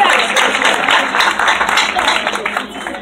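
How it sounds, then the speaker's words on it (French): A congregation breaks into sustained applause during a church service, dense clapping filling the whole stretch at a fairly steady level, with some voices mixed in beneath it. "Applaudis-le-moi. Applaudis-le."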